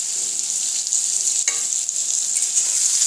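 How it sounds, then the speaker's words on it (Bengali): Hog plums sizzle steadily in a pan with salt and turmeric as they are stirred, a bright continuous frying hiss with one brief scrape of the spoon. "আর একটু নেড়ে নেব।"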